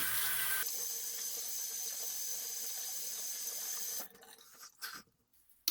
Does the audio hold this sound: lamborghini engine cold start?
no